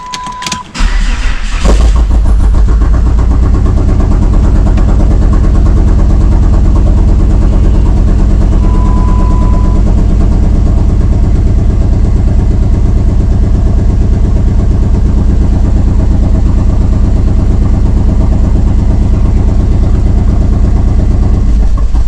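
A Dodge SRT-4 turbo engine cranks and catches, then idles loud and close with a rough, uneven throb from a misfire, running steadily for about twenty seconds.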